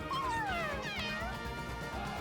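A cat in the video game Mewgenics gives two quick rising-and-falling meows over a busy game background, clear and close.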